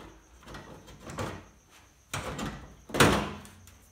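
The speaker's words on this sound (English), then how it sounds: "When the screws are removed, pull up on the cabinet cover." The front cabinet cover of an LG WD12020D front-loading washing machine is worked loose and pulled off during a door seal replacement, giving three scraping, thudding metal-panel knocks of rising loudness, close by with no talk.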